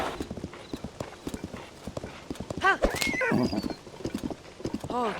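A horse whinnies several times amid steady clip-clopping hooves in The Legend of Zelda: Tears of the Kingdom, with brief background talk and game sounds around it.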